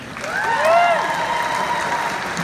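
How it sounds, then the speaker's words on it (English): Brief burst of audience applause at a cosplay contest, a soft crowd clapping and cheering with a whistle-like rising tone over it, fading slightly after the first second. "Give him another round of applause."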